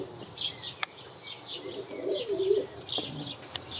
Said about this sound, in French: Les nouveaux arrivants, c'est un couple de pigeons